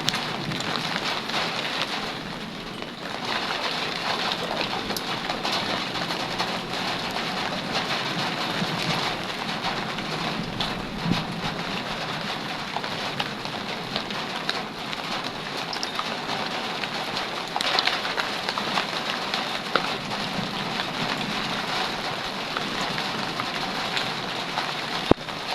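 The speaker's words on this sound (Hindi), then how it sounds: "बारिश देखिए गाइस कितनी तेज आ गई है।" Heavy rain pours steadily for the whole stretch, a dense, even hiss of drops striking surfaces, with no voices.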